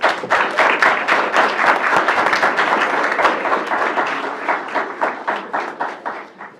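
Audience applause at a board meeting, a dense burst of many hands clapping that starts full and gradually thins into scattered, uneven claps as it fades.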